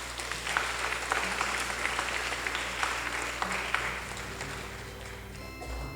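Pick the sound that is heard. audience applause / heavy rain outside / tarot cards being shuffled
audience applause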